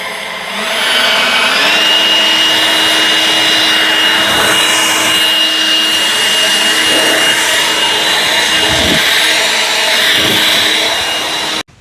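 An EGO Power+ LB7650 cordless leaf blower runs on its low setting with a steady, close whine and rushing air. The motor spools up at the start, holds even, and cuts off at the end.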